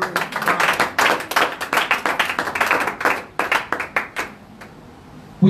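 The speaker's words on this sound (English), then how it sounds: "Can we clap our hands for the word of God?" A church congregation claps their hands together in dense, lively applause that carries for several seconds, then thins out into scattered claps and fades.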